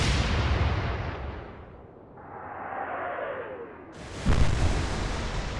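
Warship guns firing in the naval game Atlantic Fleet, a deep booming salvo that rolls away, then a descending shell whoosh and a second heavy blast, loud and close, no voices.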